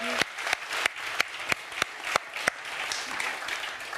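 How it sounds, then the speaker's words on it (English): Sparse, separate claps ring out at a panel discussion event in a gallery venue, a few sharp hand claps spaced over a soft crowd murmur, quieting near the end. "let's do a round of applause for our panelists"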